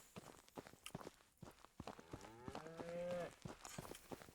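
In the Ranch Simulator video game, goats on the ranch give a drawn-out bleating call amid soft shuffling hoofsteps and thumps, fairly quiet and close.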